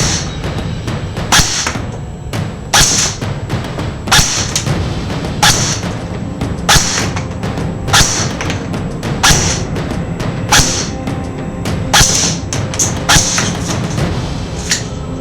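An A&K M4 D1 airsoft electric gun fires single shots at a steady pace of about one per second. Each shot is a sharp, close, loud snap over a constant background hum, with no talking.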